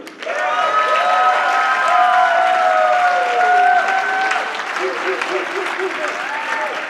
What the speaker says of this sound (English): warm round of applause for David Wood